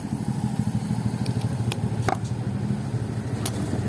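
A Nikon wall fan, newly repaired with a replaced thermal fuse, runs with a steady low motor hum and faint rattle, close by, broken by a few small clicks, with no one talking.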